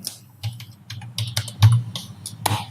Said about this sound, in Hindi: एंटर प्रेस करता हूँ